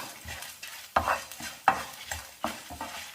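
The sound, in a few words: fenugreek and spices roasting in a pan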